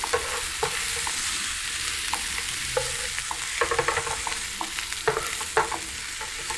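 Onions sautéing in a pan for a Pacific Islands pea stew give a continuous sizzle, punctuated by repeated clicks and scrapes of stirring, close and fairly loud, with no voices.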